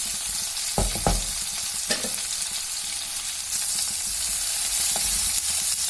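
Tomatoes fry in a pan, a steady close sizzle running throughout, with a few sharper stirring scrapes early on.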